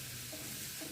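A spatula works softened tomatoes in a pan of sizzling potato curry, giving a brief, steady wet sizzle with soft mashing and stirring texture close by and no talk.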